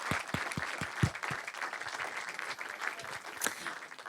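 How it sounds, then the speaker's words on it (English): A crowd applauds at a live digital product event, with a few sharp individual claps at first and then a sustained wash of clapping, moderately loud and close. "a round of applause for the guys at the back."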